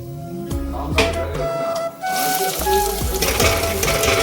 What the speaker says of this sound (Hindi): 1 ठो मिर्ची डाल के देखो अपन मन, ये हुआ आगे मतलब तेल आ गए डाल दो सब बोलो